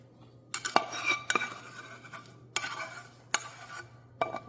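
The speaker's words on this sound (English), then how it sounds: "now I have a spatula and I'm gonna try to get it mixed up together as much as possible." Dry Chex Mix cereal being tossed and stirred with a spatula after a butter mixture is poured over it, giving several separate bursts of rustling, scraping and light clinking against the bowl, fairly close, with quiet gaps between strokes and no talking.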